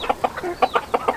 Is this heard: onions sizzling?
no